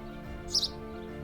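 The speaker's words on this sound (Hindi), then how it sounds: "पंछियों ने मंगलगान गाए हैं।" A brief, faint bird chirp rises once at a quiet ruined Hindu temple site in Bateshwar, over a low steady background.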